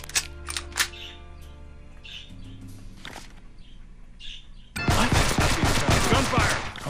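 Gunfire in the video game Counter Spy: a few sharp, separate shots early on, then a loud, dense burst of sustained automatic fire that fills the last two seconds.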